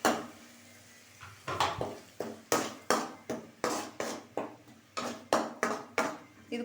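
A spatula scrapes and knocks against a pan while a ground spice paste of pepper, cumin, fennel, tomato, ginger, garlic and chili is stirred for crab masala, with a steady run of about a dozen close, regular clacks.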